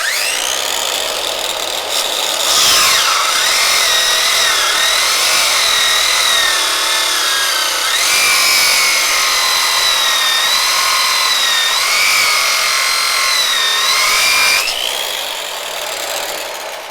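A solar-powered power saw running straight off 90-volt panels with no inverter or batteries cuts through half-inch rebar, a loud, continuous grinding whine with shifting pitch that rises and dips over about seventeen seconds.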